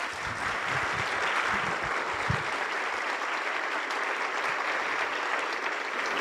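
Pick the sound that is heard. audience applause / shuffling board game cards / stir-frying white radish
audience applause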